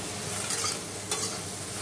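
Eggplant slices fry in a pan, a brief close sizzle with two short bursts of spatter or a turning scrape in the middle.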